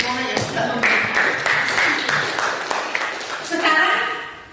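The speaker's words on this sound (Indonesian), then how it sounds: "tepuk tangan untuk Mona yang sudah memberikan." A small classroom group claps for a student named Mona, several scattered hand claps forming brief, uneven applause that tapers off near the end.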